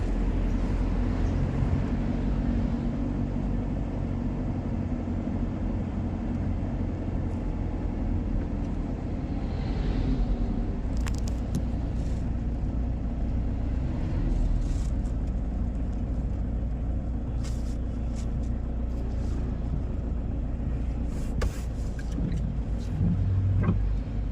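Steady road traffic rumbles past at night in Mangaon town, a continuous low roar of engines and tyres with occasional louder passing vehicles and no speech.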